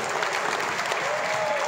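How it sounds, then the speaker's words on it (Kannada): A loud, sustained round of applause for Shashi from a crowd, dense and steady clapping filling the whole moment without a break. "ಶಶಿ ಸರ್ಗೋಸ್ಕರ ಒಂದು ಜೋರು ಚಪ್ಪಾಳೆ."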